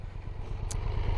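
A 2022 Triumph Tiger 1200 Rally Explorer runs at idle through a slimline exhaust, a low, steady pulsing rumble heard close up with a brief faint tick partway through.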